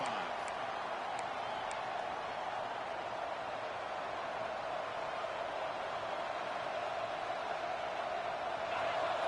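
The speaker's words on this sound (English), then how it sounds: "It's early, but this crowd is fired up. Listen to this noise here." Fired-up stadium crowd at a Clemson football game roars steadily and loudly for the whole stretch, a dense unbroken wash of massed voices with no distinct words standing out.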